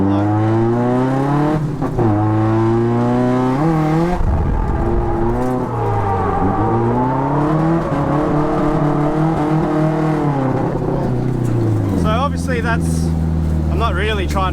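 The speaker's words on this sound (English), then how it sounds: "So this is what a Scando would look like." A drift car's engine revs loudly and rises and falls in pitch through a Scandinavian flick entry into a slide, heard close with someone talking over it.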